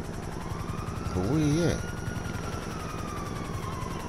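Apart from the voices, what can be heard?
helicopter flying in video game GTA V Online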